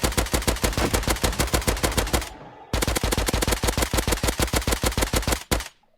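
Drum-magazine gun in a Minecraft gun mod firing at iron golems, two long rapid bursts of loud, evenly spaced shots separated by a brief gap, each burst ending abruptly.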